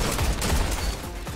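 Video game gunfire in Destiny during Iron Banner multiplayer: a dense, continuous burst of rapid shots, loud and close, lasting just over a second.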